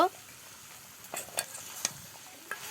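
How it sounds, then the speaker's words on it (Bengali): Fried fish pieces are stirred with spices and tomato in a pan, a soft low sizzle broken by a handful of scraping, clinking stirring strokes, close and quiet. "মাছগুলোকে একটু কষিয়ে নিচ্ছে মাছগুলো মশলার সঙ্গে কষায়নি তাই এখন দিয়ে দিল"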